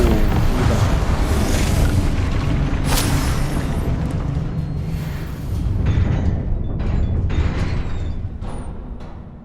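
A Confringo fire spell explodes in Hogwarts Legacy on PS5, a loud, sustained booming rumble that rolls on for several seconds before tapering off.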